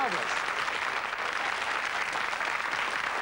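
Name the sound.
audience applause on a TV game show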